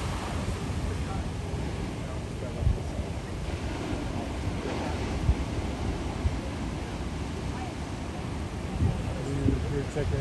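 Ocean waves break at Hagerty's surf point, Palos Verdes, as a continuous broad roar with wind buffeting the microphone and a few louder surges, heard from the shore.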